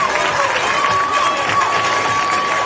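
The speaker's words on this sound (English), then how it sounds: "Crowd goes wild." Crowd at a Premier Ultimate League women's ultimate frisbee game in Philadelphia cheers loudly and steadily after a goal, a dense roar of shouts and applause with a whistle-like tone running through it.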